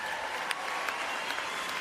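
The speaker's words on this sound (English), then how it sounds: "Where's that button with the applause?" A short, steady wash of crowd applause at a modest, even level, with no voices.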